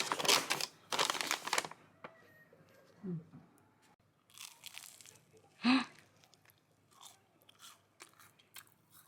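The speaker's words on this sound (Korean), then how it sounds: "여기는 붕어빵이 근데 너무 바삭해." Crisp bites and crunchy chewing of a fish-shaped bungeoppang pastry, a few sharp close crunches separated by pauses, with soft mouth noises between them.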